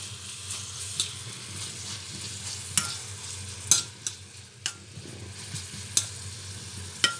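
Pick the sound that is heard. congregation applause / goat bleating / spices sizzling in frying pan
spices sizzling in frying pan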